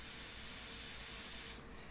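Airbrush spraying paint onto a portrait: a steady, close, loud hiss of compressed air and paint mist that runs continuously, then cuts off abruptly near the end.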